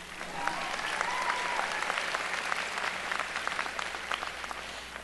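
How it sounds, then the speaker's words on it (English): Steady applause from a commencement audience honoring a lecturer serving as marshal at a Texas BBA fall graduation ceremony, dense clapping filling the hall without pause, with a faint voice briefly heard beneath it. "You can applause."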